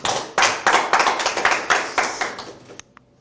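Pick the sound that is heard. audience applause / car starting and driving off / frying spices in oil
audience applause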